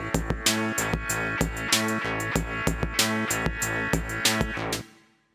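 A motorik drum jam with a distorted kick and heavily reverbed instruments with rolled-off low end, pounding in a steady driving beat of regular hits under sustained droning tones, loud and continuous before stopping abruptly.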